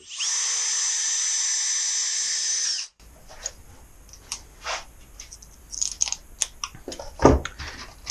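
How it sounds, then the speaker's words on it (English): A power drill drives a screw into a wooden laundry table, a loud steady whirring burst of about three seconds, then clamps and tools clatter and knock close by. "I'm going to put in one screw in each corner"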